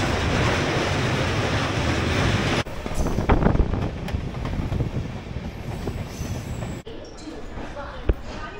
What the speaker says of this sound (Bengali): ট্রেন ভালো স্পিডে দৌড়াচ্ছে, 110 120 টানে ভালোই